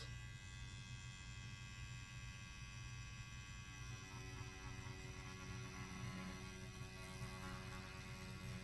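A Mast flip pen tattoo machine runs continuously while working on Reelskin practice skin, giving a steady electric buzzing hum that stays even and close throughout, with no voices.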